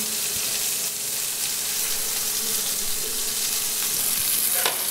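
Floured veal saltimbocca frying gently in a pan, a steady close sizzle with faint stirring and scraping, ending in a brief clink, with no one speaking.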